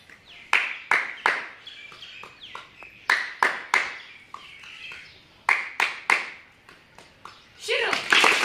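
Rhythmic hand clapping in a classroom activity demonstrating the khobra (coconut) clap, with bursts of sharp claps in quick groups separated by pauses, fairly close, with a voice briefly at the end.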